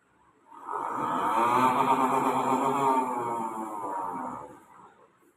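A human voice imitating a Bajaj Pulsar NS motorcycle, one sustained buzzing engine-like hum that rises, holds for about four seconds and fades out, clear and alone.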